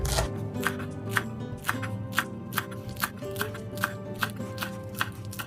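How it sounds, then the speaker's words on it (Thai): A knife slices culantro (sawtooth coriander) leaves on a board for a mackerel tom yum soup, with about a dozen crisp, evenly spaced chops over a steady bed of background music. "ผักชีฝรั่งนะคะ ให้เราซอยไว้เลยค่ะ"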